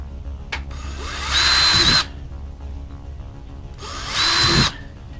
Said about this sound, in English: And drill holes.